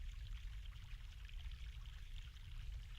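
Fresh mountain water in the adventure game The Longest Journey pours and trickles in a soft, continuous stream, faint and steady throughout with no voices.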